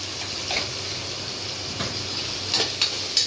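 Tomatoes sauté in a hot pan while a vegetable biryani is being cooked, giving a steady, close, soft sizzle with a few brief stirring scrapes and no talk.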